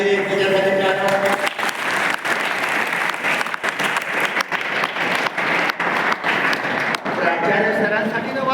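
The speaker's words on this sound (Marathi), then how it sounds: "पल्लवी यादवी एकमेकांसाठी टाळ्या वाजवा" Students clap together in a dense, loud round of applause with brief uneven dips, while a voice speaks over the clapping at the beginning and again toward the close.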